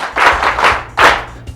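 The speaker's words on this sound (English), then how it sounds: "Clap for her!" An audience claps in a few short, loud bursts, with roughly four broad claps in quick succession and a faint tap at the end.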